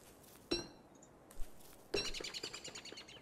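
Birds chirp in the Don't Starve video game: a few sharp, bright tweets spaced apart, followed by a quicker flurry of chirps over a soft ambient background.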